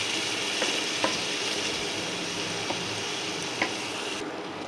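Raw mango pickle being stirred into oil in a pan, a steady soft sizzle with a few light scraping clicks of the spoon scattered through, close and fairly quiet.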